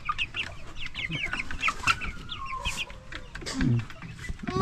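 Broiler chickens in a cage cluck and chatter in a dense, continuous flock, with a few short calls standing out close by and one louder squawk near the end.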